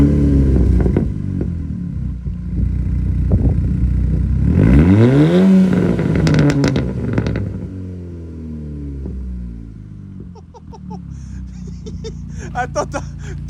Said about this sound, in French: est-ce qu'on leur fait écouter le jeune son du moteur?